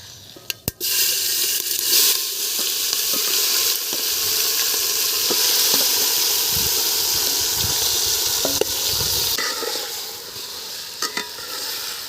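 Meat frying with dry chillies and whole garam masala in a village-style handi pot: a loud continuous sizzle with scraping stir strokes and a few sharp clatters, no talk.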